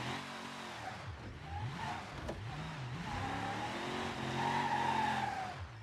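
A 1989 Chevy K2500 in a driving game sustains a loud engine drone with sweeping revs, while tire squeal and a skidding slide build toward the end during a handbrake turn.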